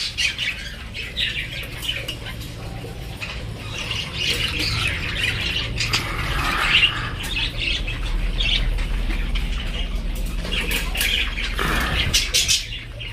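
A female budgerigar squawks and chirps repeatedly as her cage is taken out, with busy, overlapping sharp calls and some rustling and wing flutter throughout.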